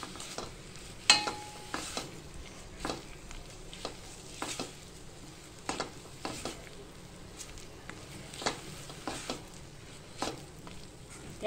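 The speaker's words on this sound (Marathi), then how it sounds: "हा मसाला आपण छानपैकी परतून घेतोय" Malvani-style masala for bangda (mackerel) fish curry being sautéed in a pan, with soft sizzling and repeated scraping stir strokes at a steady rhythm, close and moderately quiet, no talking.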